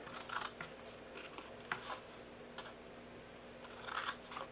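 Scissors cut up the sides of a DIY paper gift box shaped like a tool box, a few quiet, close snips and crunches spaced out with pauses between them.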